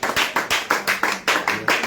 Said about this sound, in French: on acclame le Seigneur Jésus pour sa délivrance